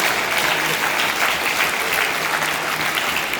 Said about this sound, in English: So if everyone can give ourselves a round of applause